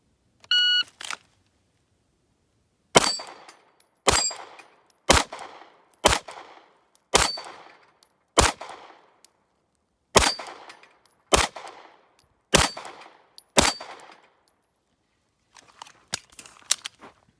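Ten one-handed pistol shots ring out in steady succession, each sharp crack followed by a quick metallic ring off a steel plate rack on an outdoor range; a short beep sounds first, and faint ticks follow near the end.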